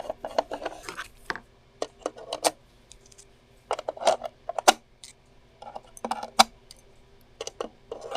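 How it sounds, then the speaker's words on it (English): Screws being backed out of the shell of an MTH Galloping Goose model train with a screwdriver: a string of short, close clicks, scrapes and metallic ticks in uneven bursts, with quiet pauses between turns and no talking. "Get the back off here. We've got 6 screws."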